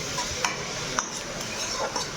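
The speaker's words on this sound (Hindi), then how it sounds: "यहाँ पे मैं पूड़ी फटाफट जल्दी से तल रही हूँ" Puris fry in hot oil in a home kitchen pan during festival cooking, a steady close sizzle broken by a few light clinks of a utensil against the pan.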